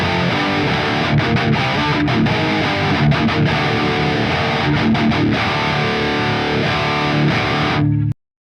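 Electric guitar through a Fortin NATAS pedal into a Marshall JCM-2000 amp, loud, heavily distorted rhythm riffing with tight palm-muted chugs and brief sharp stops, ending abruptly in silence.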